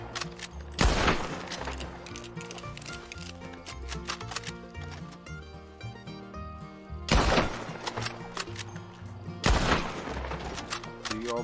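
Gunfire at a gang hideout in Red Dead Redemption 2 Online: three sharp, loud shots spaced several seconds apart, standing out over a steady musical background.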